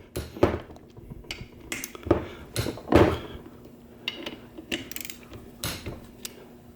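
Torque wrench tightening transfer case bolts during a Muncie 4-speed to Dana 300 conversion, a few sharp metallic clicks and ratcheting taps spaced out over quiet background.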